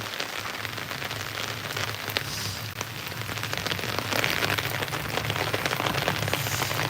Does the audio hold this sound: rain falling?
yes